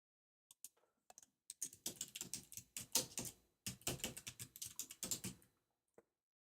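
Keystrokes on a computer keyboard, a quick irregular run of clicks broken by a short pause and a final lone tap, close and fairly quiet.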